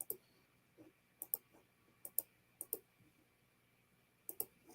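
Quiet computer clicks and key taps come in sparse pairs with short pauses between them, close by, with no voices.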